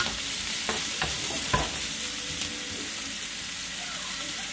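Onions frying in heated olive oil in a pan, a loud continuous sizzle with a few scraping stirs and clacks near the start, then settling into a steady hiss close by.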